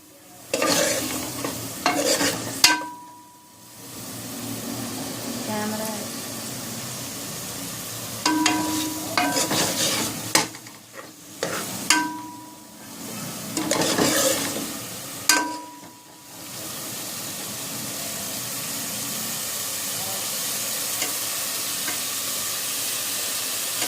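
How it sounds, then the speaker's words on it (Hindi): Beef fries in a couple of tablespoons of oil for keto palak gosht, a steady close sizzle with repeated bursts of stirring and scraping in the pan, settling into an even hiss. "इसमें इसको हम थोड़ा सा भूनेंगे और पालक ऐड कर देंगे।"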